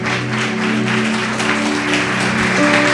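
Congregation at a Brazilian evangelical church service clapping hands in praise, a steady dense patter of many hands, loud and close, with sustained organ or keyboard tones held underneath.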